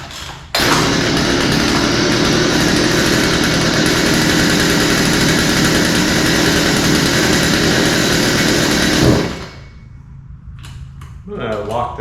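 Poulan 2150 chainsaw, fitted with a new pull rope and in need of carburetor work, fires up and runs at a loud, steady buzzing roar for about nine seconds before cutting out abruptly, leaving quiet handling sounds, close by.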